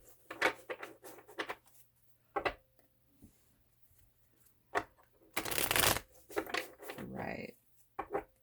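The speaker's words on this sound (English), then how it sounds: "Cards have been pre-shuffled." Tarot cards being shuffled by hand, a dense riffling burst around the middle with lighter card handling sounds before and after, close and fairly quiet, with a faint low hum underneath.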